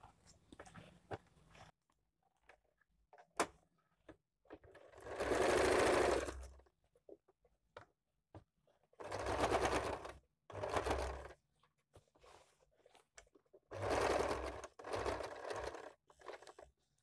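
A sewing machine stitches the joint seam of a semi-Patiala salwar in three loud, separate bursts of whirring, with quiet pauses between them.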